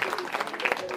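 Participants in a Cuban salsa dance workshop clapping, a quick burst of mixed hand claps in a room, with voices mixed in.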